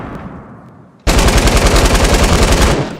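In a video game, a machine gun lets loose a sudden, loud sustained burst of rapid, evenly spaced shots lasting about two seconds after a quieter lead-in, then cuts off.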